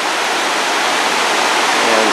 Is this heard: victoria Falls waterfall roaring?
yes